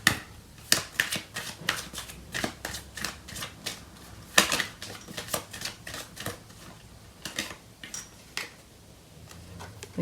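Tarot cards are shuffled and handled up close in quick crisp riffles and slaps, irregular bursts of sharp paper clicks over a quiet background.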